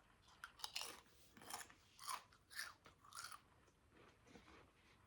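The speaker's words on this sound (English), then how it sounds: "Sorry if you don't like chewing noises." Crunchy chewing on crisps, a string of irregular crackly bites and munches up close, with brief pauses between them and no talking.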